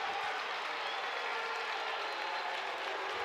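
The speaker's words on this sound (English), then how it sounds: "You hear the boos, but you also hear the applause from the Tennessee fans in the house" A baseball crowd in a stadium reacting to a home run by the Tennessee first baseman, boos mixed with applause: a broad, steady wash of crowd noise at a distance, even and sustained throughout.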